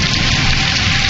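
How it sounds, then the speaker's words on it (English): Rain sound effect behind a spoken story, a dense loud hiss of downpour that holds steady throughout the short stretch with no voice over it. "The rain blew down in sheets and rolled off the dead man's face like tears."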